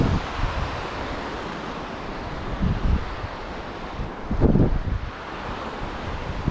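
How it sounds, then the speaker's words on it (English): Wind gusts over a reef shoreline with waves surging in the background, a steady roar of blustery air and microphone buffeting that swells in a few stronger bursts, loudest near the end. "Wind is picking up"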